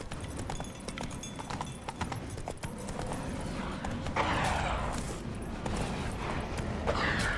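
The horse Roach galloping in the video game The Witcher 3, a steady rapid drumming of hooves under a dense layer of background game sound, continuous and moderately loud throughout.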